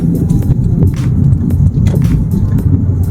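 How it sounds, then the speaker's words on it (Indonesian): A car passing on a road at night, heard from inside a moving vehicle as a steady loud engine and road rumble with repeated brief swells, no talking. "Ada mobil, ini saya salip dulu."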